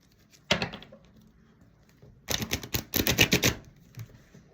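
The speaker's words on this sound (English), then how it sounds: "Damn, I'm having all kinds of trouble shuffling." Tarot cards are shuffled by hand in short bursts, a crisp rapid riffling flutter heard twice, first briefly then longer with rhythmic snapping, close and alone in a quiet room.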